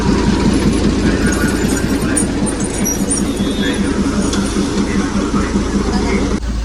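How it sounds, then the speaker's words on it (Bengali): Darjeeling toy train pulling out of the station, a steady loud rumble of engine and rolling wagons with faint background chatter throughout. "দার্জিলিং স্টেশন থেকে এই টয় ট্রেনগুলো যখন ছাড়ে"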